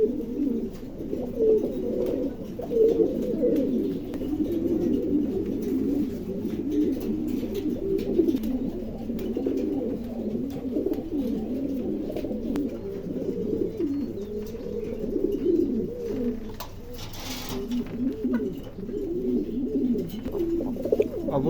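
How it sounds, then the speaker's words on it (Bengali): Domestic pigeons coo continuously in a loose, overlapping chorus, steady and fairly close throughout, with a faint voice only briefly in the background. "দেখেন, সব কবুতরই ইনশাল্লাহ সুস্থ সবল।"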